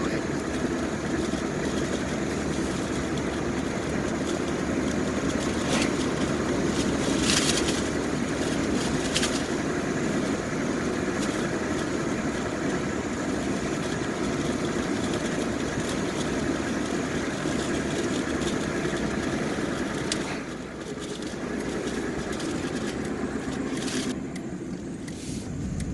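A 1990 Chevrolet S10 Blazer 4x4 being driven, its engine a steady, loud broadband drone with road and cabin rumble throughout, easing slightly near the end.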